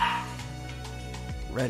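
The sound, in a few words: dog barking and whimpering in the room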